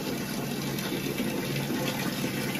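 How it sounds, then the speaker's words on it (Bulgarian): Water runs steadily into a washing machine as it fills, a continuous dense rushing hiss at even loudness throughout, with no talk. "пълни вода"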